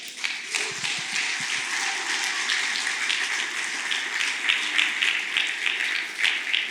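A church congregation applauds during a Sunday Christmas Eve service, steady dense clapping filling the room at moderate loudness, with no talk over it.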